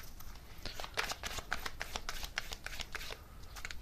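Tarot cards are shuffled by hand, a quick series of soft riffling flicks and slaps, close and quiet, with no talking.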